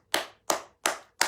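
Four sharp hand claps ring out in an even, slow rhythm, each a crisp, fairly faint smack with a short decay and silence between them.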